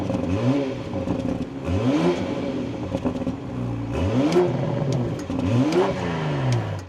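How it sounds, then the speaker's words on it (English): A 2025 BMW M440i Coupe starts up and revs, its engine rising and falling in several loud, close sweeps over a steady mechanical hum, with no talking. "let's start this up, take a listen to how this M440i sounds"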